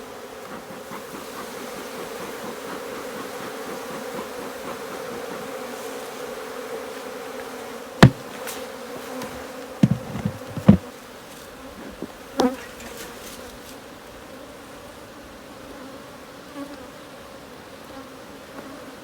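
Honeybees swarm around an opened beehive honey super, a dense continuous droning buzz held throughout, with a few sharp knocks and clicks from handling the hive frames midway.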